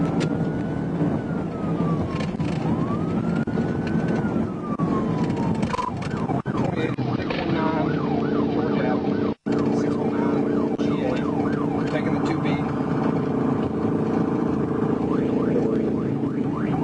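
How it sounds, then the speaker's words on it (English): A police car runs its emergency sirens during a high-speed pursuit, a loud wailing tone that shifts into a rapid yelp, heard over road and engine noise from the vehicle. "immediately activated his emergency lights and sirens"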